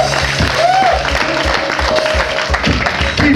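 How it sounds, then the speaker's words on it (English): An audience claps at a live stage show, a dense, loud, continuous patter of many hands filling the whole stretch without any talking. "Your claps sound like they're getting sleepy."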